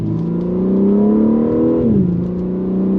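A BMW M3 Competition G80 sedan's engine and exhaust rev, a loud, close, steady droning tone that climbs and then drops sharply as the revs fall away, with no talking.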